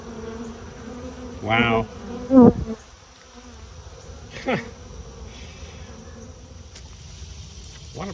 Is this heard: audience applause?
no